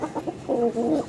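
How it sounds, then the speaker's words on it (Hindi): Chickens cluck up close as they are let out, with a few quick clucks followed by a longer, busier run of squawking calls. "मैं मुर्गियों को छोड़ रहा हूँ।"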